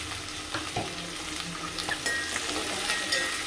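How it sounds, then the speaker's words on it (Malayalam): Chopped onions hit hot coconut oil in a pan, giving a steady crackling sizzle with a few light scrapes and clinks of a spoon against the vessel, close and moderately loud, with no talking. "വെളിച്ചെണ്ണ ചൂടാവുമ്പോൾ നമ്മൾ അതിലേക്ക് അരിഞ്ഞ് വെച്ചിരിക്കുന്ന സവാള ഇട്ട് കൊടുത്തു."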